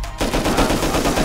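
An AK rifle in the survival game Rust fires a loud, close, unbroken burst of rapid automatic shots, dense and continuous from start to finish, with no voices.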